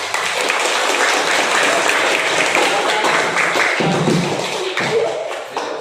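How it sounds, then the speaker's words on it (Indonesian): A classroom of students applauds a group representative with sustained, dense clapping that fills the room for several seconds before thinning out near the end, with some voices mixed in. "Beri tepuk tangan."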